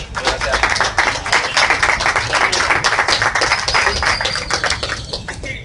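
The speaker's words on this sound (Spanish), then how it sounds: "quisiera darle un gran aplauso de bienvenida" An audience at a civic event claps steadily to welcome a jury member, dense and continuous applause close up for several seconds.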